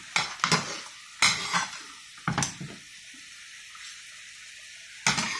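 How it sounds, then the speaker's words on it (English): Cooking sauce for shrimp and mussels carbonara is ladled in a pan, producing a few separate bursts of clinking and splashing sizzle spaced by quiet pauses, close by and without talk. "And I'm going to continue ladling this on while my sauce continues to cook and it continues to reduce down."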